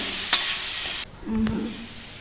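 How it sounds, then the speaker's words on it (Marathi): Radish pieces hiss and sizzle in hot oil on a griddle pan, with a sharp stir clink; the frying drops quieter partway through, then continues softly. "आपला हा मुळा आहे तो चांगला तव्यामध्ये फ्राय करून घेतलेला आहे"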